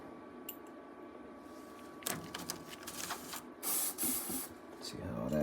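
A paint sprayer sprays cleaner through itself in short hissing bursts that grow longer and louder toward the end, with background hum and a person talking in between.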